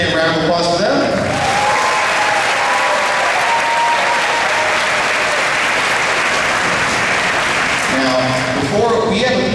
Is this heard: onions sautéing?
no